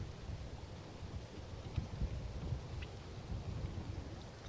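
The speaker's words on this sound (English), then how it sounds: "this wind has been pretty relentless for much of the day" Strong gusting wind buffets the microphone on a golf course in Puerto Rico, a continuous low rumbling roar with surging gusts and no speech.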